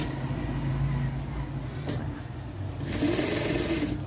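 A sewing machine stitches piping onto fabric over buckram, running in a steady mechanical whir that speeds up near the end, close and moderately loud with no talk.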